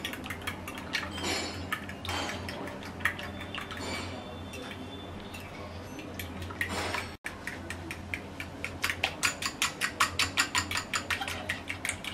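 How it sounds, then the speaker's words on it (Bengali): Two eggs beaten with salt and water in a bowl: rapid, rhythmic clinks of a utensil against the bowl rise and fall, then turn quicker and more even after a brief break. The sound is close but fairly quiet, with no voices. "এবার ডিমটাকে ভালো করে ফেটিয়ে নেব।"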